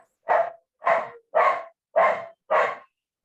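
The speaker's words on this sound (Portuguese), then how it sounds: "Tem um dog aí latindo." Dog barking, five sharp evenly spaced barks at moderate distance, each short and clear against silence.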